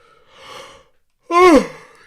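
A late-night yawn from a man hosting a football podcast: a soft breathy inhale followed by a louder, voiced, drawn-out exhale that falls in pitch, close to the microphone.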